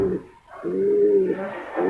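Racing pigeons in training coo softly nearby, a low hollow warble with a short pause and then a longer sustained coo, with faint voices in the background.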